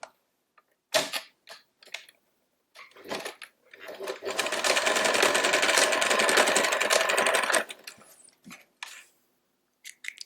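Close by, a sewing machine runs in a steady mechanical whir for a few seconds, joining elastic, bracketed by short bursts of stitching and handling clicks.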